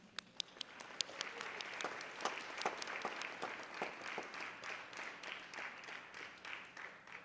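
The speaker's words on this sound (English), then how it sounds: "Let's give you a round of applause." Audience applause at a high school National Honor Society induction ceremony, scattered sharp claps at first building into steady, moderately distant clapping from a crowd.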